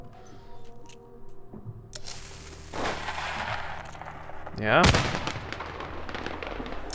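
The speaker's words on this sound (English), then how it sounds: "How about some fireworks?" Fireworks burst in the video game Generation Zero, several crackling pops building to one loud, sharp blast near the end, with a brief spoken word in the middle.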